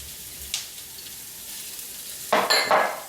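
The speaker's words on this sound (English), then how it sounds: "Then we're going to add the bacon." Bacon dropping into a hot pan with garlic, a brief clatter early then a loud burst of sizzling and frying with pan knocks near the end; no talking.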